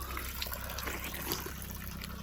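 Water pours steadily from a spring spout in an Uttarakhand mountain village, a continuous, close, splashing gush that stays at an even level throughout, with no voices.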